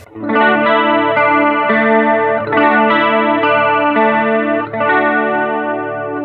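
Strummed electric guitar chords through a Roland CUBE-10GX amp ring out one after another, shimmering and slightly warbling with a chorus effect, played loud and steady with no talking.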